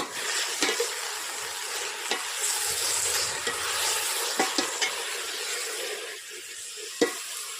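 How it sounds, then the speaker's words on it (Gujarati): Leafy greens for bhaji sizzle and fry in a pan while being stirred, steady hiss broken by sharp scraping strokes of the spoon at irregular intervals, close and fairly loud with no talking. "તો હવે આપણે એને હલાવી નાખીએ."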